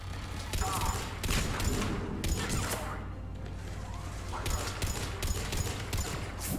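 Turret gunfire in the sci-fi shooter Mass Effect 3, repeated bursts of shots and impacts in a busy battle soundscape, fairly close and steady over a low hum.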